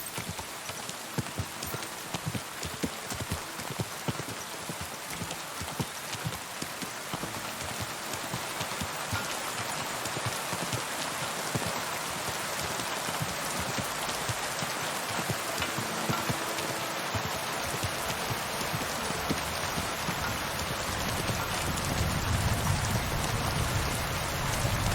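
Steady rain falls in the medieval video game Kingdom Come Deliverance 2, a dense, constant hiss of drops throughout, with rhythmic horse hoof clip-clops underneath.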